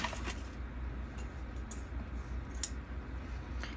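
Scissors snip through twine thread for a no-sew beginner journal, making a few quiet, brief clicks and one crisp cut, close and alone with no talking.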